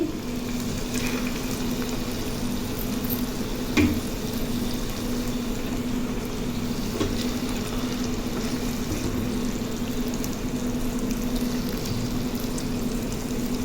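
Slices of chicken fry in a pan with a steady sizzle and bubbling, constant and close, with an occasional faint clink.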